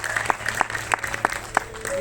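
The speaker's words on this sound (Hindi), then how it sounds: "एक बार अपने लिए तालियां बजा दीजिए।" A Dehradun audience at a stage event claps in a series of distinct sharp bursts, a loose rhythmic clapping at moderate volume with crowd murmur underneath and no clear voice over it.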